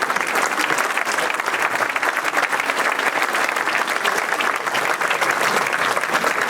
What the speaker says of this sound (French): on peut bien les applaudir